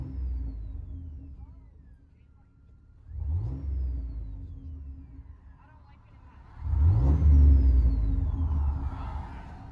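Engine rumble heard from inside the cab of a 2003 Chevy Silverado 4.3L V6 with a Flowmaster Super 10 exhaust, idling low then swelling in two loud revs, the second longer and deeper, with faint voices underneath.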